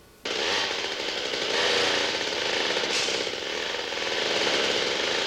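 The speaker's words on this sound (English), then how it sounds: "He likes his chainsaw." A loud, continuous chainsaw roar starts abruptly and holds steady with slight surges as the saw cuts a tree close by, from the 1982 film Pieces.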